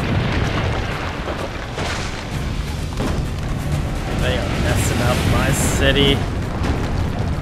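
Cannon fire and explosions during a village defense in Assassin's Creed Brotherhood, a loud run of booms and blasts with rumbling debris. Someone speaks briefly over the battle noise.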